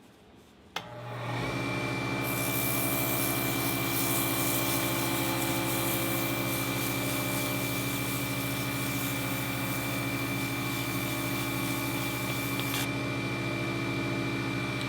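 A lathe starts up and keeps a steady whirring hum while a turned skull pen is sanded with 220-grit sandpaper, a brighter rushing hiss of sanding riding on top for most of the run; close and continuous, with no talk.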